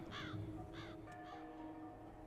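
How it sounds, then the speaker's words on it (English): A crow cawing in a spooky video game: three harsh, ragged caws in quick succession, fairly distant and faint over a steady low ambient hum. "I heard a crow."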